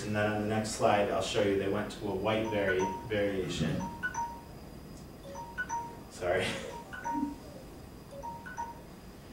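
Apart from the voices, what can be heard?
alarm chime signalling time is up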